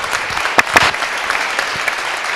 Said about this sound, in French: Vous pouvez l'applaudir même s'il n'est pas là